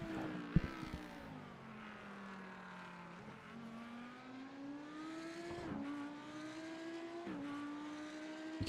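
Race cars lap the Fuji circuit in the iRacing simulator, one engine droning and climbing in pitch with brief dips at gear shifts and a faint tick, steady and fairly quiet throughout.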